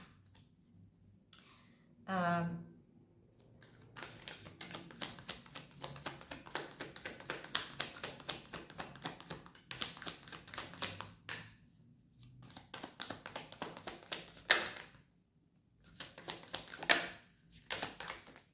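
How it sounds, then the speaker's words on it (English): Tarot cards being shuffled by hand, a long run of quick dense riffling taps with brief pauses in between, fairly close and moderately loud. "Let's get some more cards."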